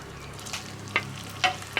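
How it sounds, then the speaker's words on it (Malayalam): Idiyappam rice noodles sauté lightly in ghee in a pan for payasam, giving a soft, steady sizzle with a few sharp clinks and scrapes of a spoon, close but quiet. "കുറച്ച് നെയ്യിൽ ഞാൻ ഈ ഇടിയപ്പം ഒന്ന് വഴറ്റിയെടുക്കുന്നുണ്ട്"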